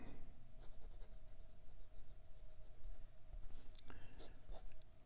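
Steel-nibbed generic Titanium Tactical fountain pen scratching across Clairefontaine 90 gsm paper, a soft continuous close-up scratching with brief stroke pauses, over a faint steady background hum.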